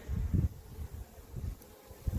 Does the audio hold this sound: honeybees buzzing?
yes